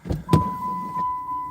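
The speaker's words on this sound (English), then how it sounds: "Get the car noise over." A car outdoors gives a short mechanical whir with a steady motor hum, close and fairly loud, opening with a couple of clunking thumps.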